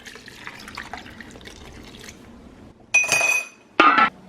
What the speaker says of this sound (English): we're just gonna cover this with some water